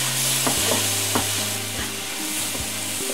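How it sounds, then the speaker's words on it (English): Chopped tomatoes go into a pan of frying masala for a South Indian egg curry and are stirred, a steady close sizzle broken by several sharp scraping stirs of a spoon against the pan. "So next I'm going to add the tomatoes."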